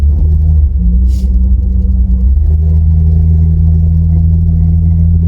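An 1980s Opel Monza 3.0 automatic coupe on the move, heard from inside as a loud, steady low engine drone and road rumble with a slight shift in tone partway through.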